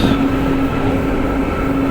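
Steady rumbling drone of an MRT metro train in motion, with a constant low hum and faint mechanical whine throughout, no voices.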